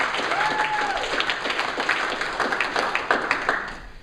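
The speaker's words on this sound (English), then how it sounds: "I think you should give yourselves a round of applause." Sustained applause from the audience at a Long Island improv comedy show, a dense wash of clapping held steady at moderate volume before tapering slightly at the end, with no talk over it.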